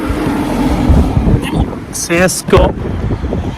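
Strong wind buffeting a car on a rainy mountain day in Mugello, a continuous loud rumbling roar close to the microphone, with someone speaking over it.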